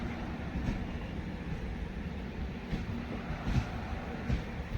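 An Intercity Express train pulling away from Mararikulam railway station, heard as a faint, steady low rumble with soft periodic rail knocks, no voices.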